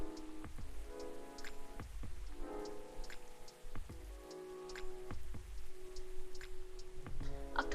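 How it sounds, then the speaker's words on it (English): Steady rain pattering in Animal Crossing, a continuous soft patter of drops with faint ticking accents, accompanied by a gentle melodic game tune and recurring low thuds. "It's back to raining. It's always raining."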